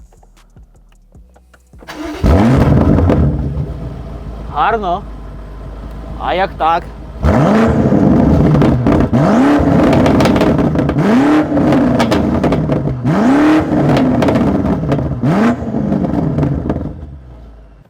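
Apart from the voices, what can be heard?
sports car engine starting and revving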